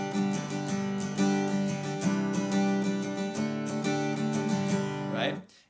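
An acoustic guitar is strummed in a down, down, up, down, up pattern for a song, with steady rhythmic chord strokes over about five seconds, close and clear, ending with a fading ring.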